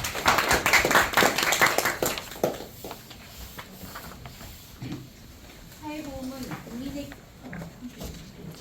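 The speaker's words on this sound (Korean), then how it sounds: "박수로 모시겠습니다." Audience applause at a labour union forum as speakers are welcomed: a burst of dense clapping for about two and a half seconds, then it fades under a quieter stretch with talking.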